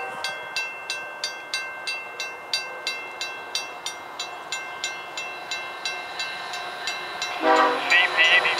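Union Pacific 5517 passing eastbound at a crossing, steady rhythmic wheel clacks over the rail joints, then the train horn sounds loudly near the end.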